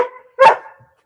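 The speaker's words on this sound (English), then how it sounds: "stop barking" A dog named Starlight gives a single sharp, loud bark right up close, preceded by a short whiny vocal tone and followed by silence.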